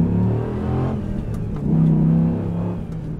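A 2004 Dodge Ram SRT-10 truck with a six-speed manual revs up through gears, its deep engine rumble rising and falling across shifts, loud and close.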